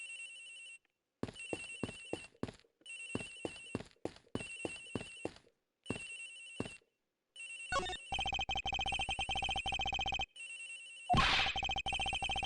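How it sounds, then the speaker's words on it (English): A cell phone rings out a gentle lullaby ringtone in a tinkling melodic pattern of repeated short phrases, first in spaced bursts and then continuous, clear and prominent with no talk over it. "Agent X's phone. It's ringing from somewhere, sir."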